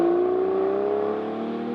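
Aston Martin Vanquish Volante engine humming smoothly while cruising, a steady low tonal drone with harmonic layers and a slight pitch drift, heard alone and fairly close.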